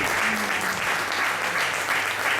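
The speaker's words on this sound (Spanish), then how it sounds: "Un aplaudiment per Aida Fontova." An audience claps steadily at a poetry contest award ceremony, dense applause sustained at an even level for the whole short stretch.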